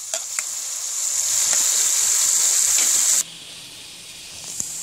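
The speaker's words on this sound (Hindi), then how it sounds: "जब तक हमारा मसाला अच्छी तरह भुन रहा है" Masala of green chili paste and ginger-garlic paste sizzles steadily in a pan for an egg sponge masala, a loud continuous frying hiss that drops suddenly to a quieter sizzle near the end, with no talking.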